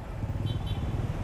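Low engine rumble of motorcycles and cars crawling through heavy traffic near a rotunda in Taytay, heard briefly and close, a steady mid-loud drone.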